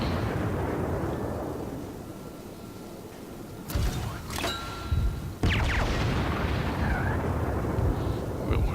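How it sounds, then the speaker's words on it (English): Warship main battery guns fire during a World of Warships naval battle, with several sharp, loud booms and crackling shell blasts over a constant rumbling engine and sea backdrop. "He's firing his main batteries, try to turn into him."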